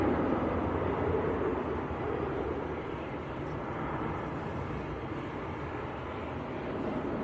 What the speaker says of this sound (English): Come back to that Dreamliner, which is still taxiing in, just passing the biz ramp at the moment.